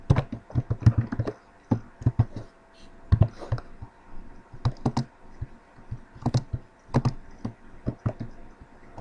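A query being typed on a computer keyboard: bursts of crisp, close key clicks in uneven runs and pauses, with no voices.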